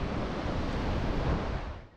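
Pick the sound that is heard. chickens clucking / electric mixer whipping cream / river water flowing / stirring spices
river water flowing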